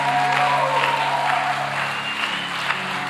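Church congregation clapping during a sermon, a steady sustained round of applause heard fairly close, with a held musical tone running underneath.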